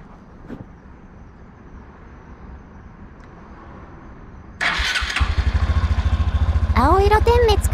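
A Honda Hunter Cub motorcycle engine starts after a quiet stretch and runs loud and close at a steady idle with a throbbing rhythm, with a few rising whine-like tones near the end.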